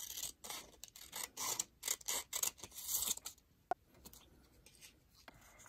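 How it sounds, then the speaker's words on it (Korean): Scissors cut a sheet of colored origami paper in half, a run of crisp close snipping and paper-rasping strokes followed by quieter handling and a single sharp click. "가위로 반을 잘라주세요"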